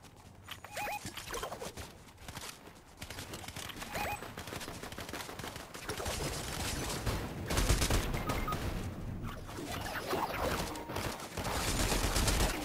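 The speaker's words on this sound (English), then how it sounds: "Just get away from the island, because they're just shooting from there." Gunfire from the military shooter game Squad: repeated bursts of rifle and machine-gun fire, some near and some distant, with sharp cracks scattered through a continuous combat din.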